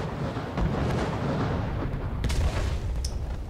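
Bombing-zone explosions in PUBG Mobile, a constant heavy rumble of booms with a few sharper bursts cutting through, dense and continuous with no talking.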